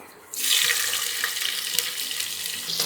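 Chopped onions dropped into hot oil already holding bay leaf, marathi moggu and star anise for a fenugreek-leaf rice bath, bursting into a loud, steady hiss after a quiet start and frying continuously without talk.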